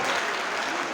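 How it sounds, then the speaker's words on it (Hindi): A school function crowd bursts into loud, continuous applause for the children, a brief, dense burst of clapping. "उनके लिए तालियां हो।"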